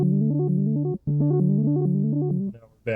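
Poly Effects pedal on an arpeggiator setting in its lower rate range, stepping through repeating synth-like notes in a steady, quick rhythm, with a brief gap near the middle and a fading, shifting tail at the end; no talking.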